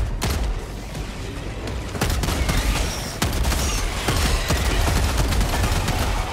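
Artillery barrage in Helldivers 2: a dense, continuous roar of overlapping explosions and blasts, loud and close, with sharper booms breaking through the rumble and no voices.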